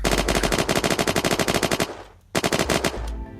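A Scalar Coalition SMG in the Unturned video game fires a rapid full-auto burst of about two dozen loud, close shots, pauses briefly, then fires a shorter final burst as the magazine empties.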